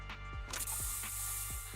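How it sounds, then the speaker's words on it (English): Special Bang Boo spray going off in a video game, a short hiss of spray with mechanical clicks and low thuds over a steady game background hum. "Here, have a taste of the special Bang Boo spray."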